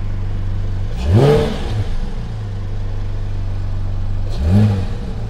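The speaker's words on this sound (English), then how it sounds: "You can hear it taking gulps of air there just as I touch on the accelerator." Car with a sports exhaust selected, giving two short revs from idle, each a quick rising blip that settles back to a steady low burble, close and loud with no talking.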